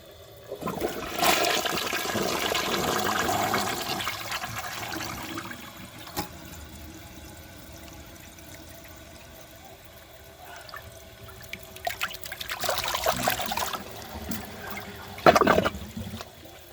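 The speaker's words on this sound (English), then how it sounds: "I'm going to give that another flush and see if it can take it the rest of the way." A 1998 Western Pottery Clinton toilet flushing during a clog test: a loud rushing flush, then a quieter stretch of refill trickling and water running, and a second surge of gurgling water near the end.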